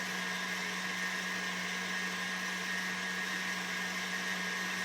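An electric stand mixer whipping egg whites for cheese soufflés at third speed, a steady close motor whine with an even buzzing hum that stays constant and uninterrupted.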